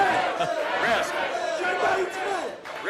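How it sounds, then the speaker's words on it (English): Arm wrestling match crowd at the King of the Table event, cheering and shouting in a dense, sustained roar that swells and dips over a few seconds, with voices mixed throughout. "the crowd is cheering Hermes"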